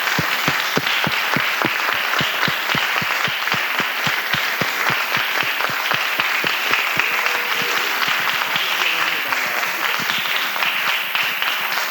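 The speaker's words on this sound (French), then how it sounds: "je vous donne un applaudissement très très fort" Enthusiastic audience applause at a closing session: dense, steady clapping from many hands that carries on loud and even throughout, with no voices over it.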